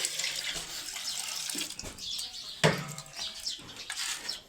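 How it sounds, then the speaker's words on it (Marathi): Water running steadily from a tap into a container for washing, near and continuous, with a bird calling faintly in the background. "बकरीले पाणी ठेवतो आता धुयाले"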